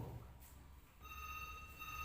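A telephone rings with a steady electronic tone that starts about halfway through, heard against a low hum in the room during an Islamic Ramadan study lecture. Nobody speaks.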